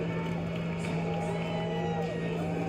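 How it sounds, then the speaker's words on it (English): Loud basketball arena crowd at a Western Conference Finals Game 4 against OKC, a dense, steady roar of cheering and shouting that fills the space without a break, with voices blending into the din. "This crowd is fucking loud"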